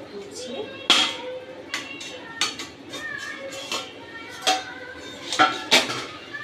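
A metal lid goes onto a cooking pot of soybean panch mishali sabji, with a series of sharp clinks and clatters spread unevenly across the moment while a voice speaks nearby.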